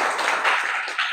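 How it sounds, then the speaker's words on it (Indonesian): Students in a classroom clapping for a classmate during a math lesson, a short burst of close, bright applause that stays steady for about a second. "Oke, kasih tepuk tangan untuk Angel."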